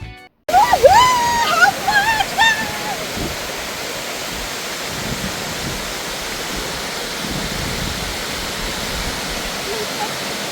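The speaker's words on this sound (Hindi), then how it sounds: "पानी की गरजती हुई आवाज़" Hebbe Falls thunders down big rocks in dense forest, making a steady, loud broadband roar that fills the whole stretch, with a brief tonal voice-like sound near the start over the rushing water.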